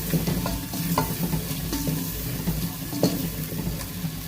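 Potatoes fry in a pan for a mixed vegetable sabzi, giving a steady close sizzle broken by the scrape and clatter of stirring throughout.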